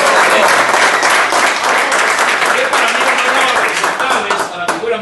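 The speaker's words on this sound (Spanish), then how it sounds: "Tenemos esa figura, un aplauso para ellos." Loud applause from an audience for company founders, dense sustained clapping that fills the whole stretch and tapers slightly near the end.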